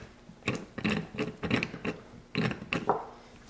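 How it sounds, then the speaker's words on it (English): A simple homemade air motor running off a compressor at about 140 psi chugs nearby in quick irregular mechanical clacks and hisses, a burst of several strokes, a brief lull, then a few more. "I made an air motor. Simple air motor. Runs off a compressor at around 140 psi."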